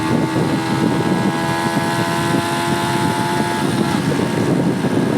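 A Brixton Rayburn 125 motorcycle engine pulls hard in second gear toward its 10,500 rpm cut-off, a loud, steady close-up drone with harmonic whine and wind buffeting throughout, no talk.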